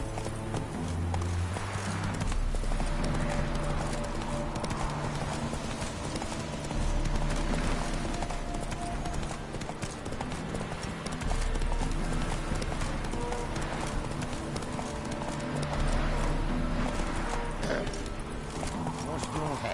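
A horse trots along with a steady, close clip-clop of hooves that keeps going throughout, under voices and tonal background sound.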